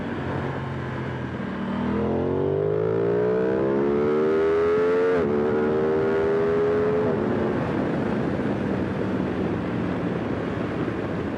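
A 2025 Aprilia Tuono 660 Factory motorcycle revs and accelerates hard. The engine pitch climbs steeply through the gears, with a quick-shift break midway, then settles into steady high-speed riding with wind roar.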